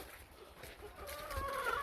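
Backyard chickens cluck softly at a distance, with a few rising calls near the end over a faint, noisy background.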